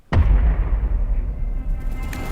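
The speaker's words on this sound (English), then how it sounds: "Explosions. Of course." Explosions from the Godzilla vs. Kong movie trailer: a sudden loud boom opens, followed by a rolling, rumbling roar that gradually settles into low, heavy noise.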